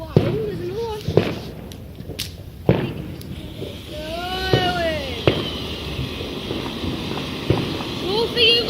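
Fireworks rockets going off on bonfire night outdoors, several sharp cracks and bangs scattered through the dark with rising whistling whooshes, while people talk and call out nearby.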